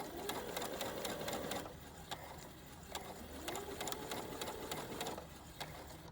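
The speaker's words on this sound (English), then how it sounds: "And then I'm going to start sewing." A sewing machine stitches a Ban-Roll rolled hem along the edge of fabric under the presser foot, running in fast, even bursts of stitching with short pauses between runs.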